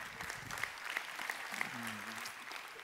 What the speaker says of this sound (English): that's worth the clap.